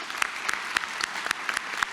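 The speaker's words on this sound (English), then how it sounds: "let's give all of our honorees another round of applause" Applause for honorees at a university convocation, a steady rain of clapping from a large audience with individual sharp claps standing out at a fairly regular pulse, moderately quiet and with no talking.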